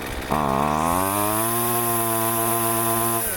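A Husqvarna 128CD chainsaw engine with weak compression drones steadily at a constant, fairly low pitch without revving up, sounding strained and underpowered.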